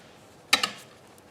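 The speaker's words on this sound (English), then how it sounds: "So all I'm going to do now is cut between those 2 spots with my craft knife." A craft knife slices between two pencilled marks in a single quick pass, giving two sharp, close ticks a split second apart followed by a brief scraping tail, near and alone.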